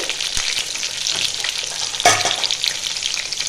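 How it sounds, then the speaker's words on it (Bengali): Small whole potatoes and papaya pieces, salted and dusted with turmeric, sizzle steadily in hot oil, with occasional stirring clatters and one sharper scrape about two seconds in. Loud and close, with no voices. "একটু হলুদ দিয়ে আমি একটু লাল লাল করে ভেজে নেব"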